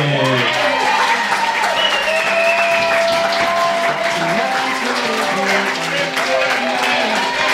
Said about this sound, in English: Please put your hands together for bridesmaid Katie Kobash, escorted by groomsman Ted Fakin.